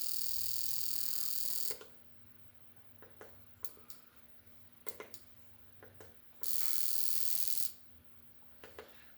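An injector tester powered from a bench supply pulses a fuel injector from a 5.3 LS engine, giving sharp buzzing bursts and quick clicks in irregular groups, separated by quiet gaps.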